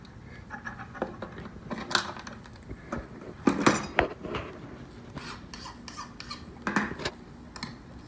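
A grooming shears blade scrapes on a sharpening stone in short, irregular rasping strokes, close and fairly quiet, with light metallic clinks between them.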